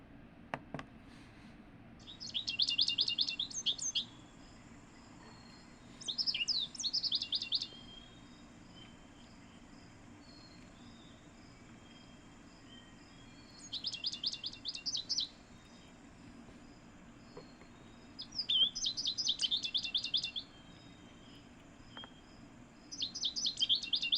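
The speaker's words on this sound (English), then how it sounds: "So this is the American goldfinch." Short bursts of high, twittering American goldfinch song repeat every few seconds over a soft, steady background hum of outdoor ambience in Vermont.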